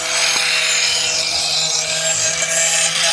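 A machete blade is sharpened in steady, continuous strokes, a loud, close, bright rasping scrape that runs without pause.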